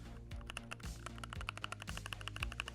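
Fast typing on a Keychron 60% keyboard with Cherry MX Brown switches: a steady run of crisp, close keystrokes with a few heavier thocks mixed in, heard alone without talking.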